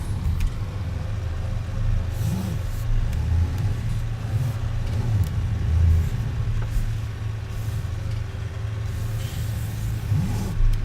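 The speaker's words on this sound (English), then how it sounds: "I need to move this tractor and get it working." A tractor in Farming Simulator 17 drives steadily with a continuous low engine rumble and faint revving swells, loud and unbroken throughout, no voices.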